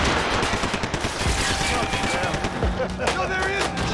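Gunfire in the action shooter Max Payne 3, a steady, dense run of rapid shots close by with continuous battle noise.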